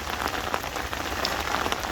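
Steady rain falls at a carp fishing spot, a dense constant patter of drops on surfaces with scattered louder hits close by, with no voices.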